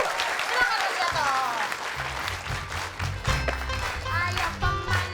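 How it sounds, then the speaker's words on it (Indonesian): Applause and cheering from a TV game-show studio audience, steady throughout, with a low rhythmic thumping of movement and voices shouting in the mix. "Tepuk tangan untuk Mas Yanto."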